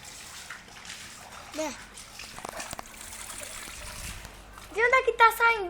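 Water splashes and trickles from a shower in a playful bathing scene, a steady spattering wash with a few sharper splashes, while children's voices chatter over it and grow louder near the end.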